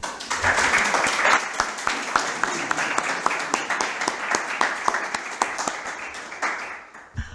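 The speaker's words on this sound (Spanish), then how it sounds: "Un aplauso, por favor." Audience applause at a symposium in an athenaeum hall, with distinct individual claps standing out over a steady wash of clapping that gradually thins and fades out.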